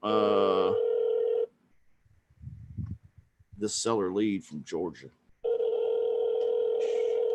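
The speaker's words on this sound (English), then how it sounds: "I'm dialing the phone right now" Steady telephone dial tone with a loud, continuous hum opens and closes the clip, bracketing a stretch of talking; the line is being dialed to reach a seller lead.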